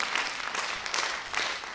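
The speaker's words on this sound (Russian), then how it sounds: "бурные аплодисменты" Concert audience applauding a guitarist on stage, a dense, steady wash of clapping that carries at even loudness throughout.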